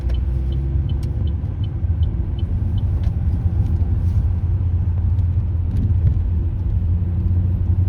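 A car drives along a road in the UK, giving a steady low rumble of engine and tyre noise with faint ticks throughout, loud and continuous with no talk.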